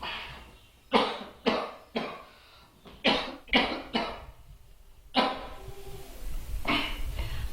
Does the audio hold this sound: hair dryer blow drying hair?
no